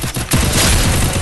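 Rapid, dense bursts of gunfire in the online shooter Free Fire, played on a low-end PC, loud and close, sounding as a continuous volley of overlapping shots.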